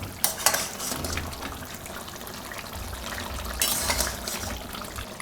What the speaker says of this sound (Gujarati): આને આપણે 1 મિનિટ પકાવી લીધું ગ્રેવીમાં